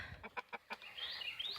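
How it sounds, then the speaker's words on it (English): Hens in a chicken tractor let out a quick run of short clucks followed by a higher drawn-out call, all faint and fairly distant. "5 hens in here with him"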